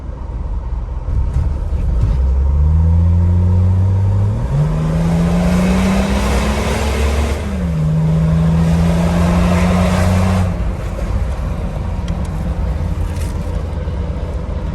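The OM606 diesel engine in a Mercedes G300 with an upgraded ECU revs and pulls while driving: a loud droning engine note climbs through two steps, drops, then holds steady, heard close from the cabin without talk.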